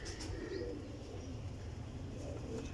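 Pigeons cooing softly at a pigeon dealer's point, low rolling coos repeating under a faint background hum and a few light chirps.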